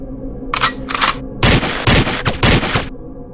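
Gunfire from a single gun in a Manipuri war film scene: a few short bursts, then longer rattling volleys with brief gaps between them, loud and close.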